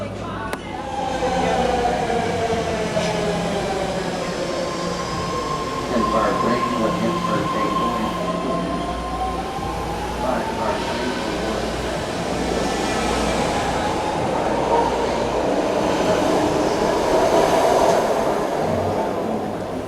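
A BART subway train in San Francisco rumbling along the tracks, with a steady roar, rhythmic wheel clatter and occasional high squeals, close and loud throughout.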